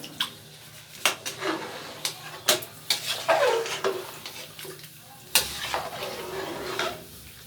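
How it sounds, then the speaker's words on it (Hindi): Spoon stirring red chilli, coriander and turmeric into beef trotters in a pot, with irregular scraping clinks and knocks against the metal, some sharp and close, over faint background hiss. "और अब हम इसे अच्छे से मिक्स कर लेंगे।"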